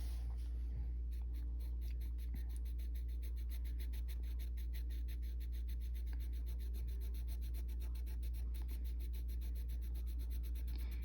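Soft, steady scratchy rubbing of a Thornton's colorless blender pencil on colored-pencil paper, repeated back-and-forth strokes, close up over a low constant hum.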